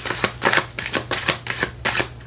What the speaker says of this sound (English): He's playing with the plastic bag.